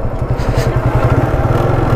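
A motorcycle runs close by on a road near Darjeeling, its mid-pitched engine throbbing steadily and loudly with a rapid rhythmic pulse throughout, no voices over it.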